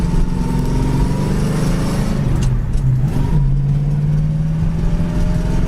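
A 1966 Ford Mustang coupe with a three-speed manual gearbox drives along, its engine droning loud and steady, with a brief dip and change in pitch midway as it shifts gear. No one speaks.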